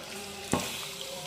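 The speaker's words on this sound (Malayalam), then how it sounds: "തൈരും തേങ്ങയും കൂടെ ഉള്ള അരപ്പ് നമുക്ക് ചേർത്ത് കൊടുത്തേക്കാം." Curd and coconut paste being added to a pan of moru curry: a single soft splashing plop near the middle, then a low, steady background hum with no voices.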